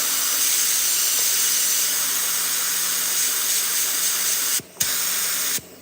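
A steady, loud hiss of a paint spray gun runs continuously, cutting off briefly twice near the end.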